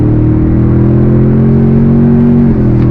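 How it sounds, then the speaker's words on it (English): 2023 Toyota Tundra TRD Pro in sport mode under throttle, a loud, steady low engine drone with a rising hum heard from inside the cab, alone without speech. "I'm going to put it into sport mode, and we're going to go on throttle"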